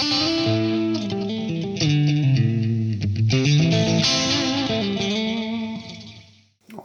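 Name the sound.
electric guitar through Binson Echorec echo unit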